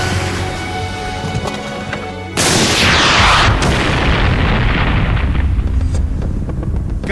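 A Swiss Army grenade launcher round bursts on a target: a loud, sharp boom cuts in after a steady rumble, then rolls out into a long, fading roar.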